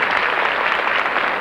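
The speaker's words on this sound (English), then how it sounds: "The volume of the studio applause determined the winner." A dense, steady wash of TV studio audience applause on a 1950s game show, where the loudness of the clapping picks the winner; the applause is loud and unbroken throughout, with no talk over it.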